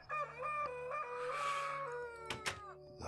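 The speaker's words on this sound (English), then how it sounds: "That bloody cockerel scares the crap out of me every time." A cockerel crows in the video game TerraFirmaCraft, one long, loud, close call with a rising and falling tone, followed by a couple of short clucks near the end.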